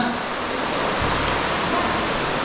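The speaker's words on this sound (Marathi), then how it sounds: "इथे आलो तसा पाऊस अजून वाढला" Heavy rain pours steadily on a village house, a dense, continuous hiss close by with no break across the short stretch and no voices.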